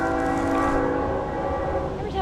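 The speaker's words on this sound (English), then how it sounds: "Every time I start to talk up here, a train comes." A train rumbles past a backyard greenhouse with a loud, sustained horn tone over heavy rolling noise, continuous and close for the whole stretch.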